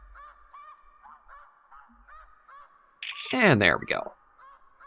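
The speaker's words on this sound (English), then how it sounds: "I can hear all the geese" Waterfowl in a video game call with a run of repeated goose honks at an even pace, then a louder, denser burst of honking from the flock, all under someone speaking briefly.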